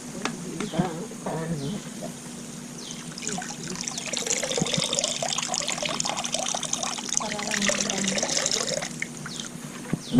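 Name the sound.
liquid fertilizer water strained and poured into a bucket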